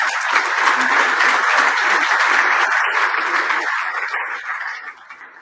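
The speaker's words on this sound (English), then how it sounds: "maybe we can give her a big round of applause for being so brave for everything she said" A conference audience on gender equality in sport gives a panelist a sustained round of applause, a dense, loud wash of many hands clapping that gradually fades at the end.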